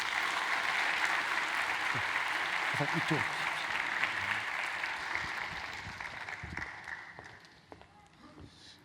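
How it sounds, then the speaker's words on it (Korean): A church congregation applauds to welcome a pastor who heads a Busan Christian broadcasting branch. The clapping is dense and sustained, gradually thinning and fading toward the end, with brief speech heard over it. "박수로 환영하겠습니다"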